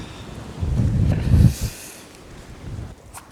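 Rain and gusting wind batter a sea fishing spot on the coast, with a rough low-pitched rush that swells to a loud peak and then eases into a softer steady patter near the microphone.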